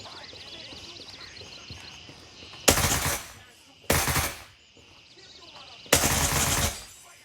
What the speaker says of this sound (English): You can shoot through the wood as I'm doing there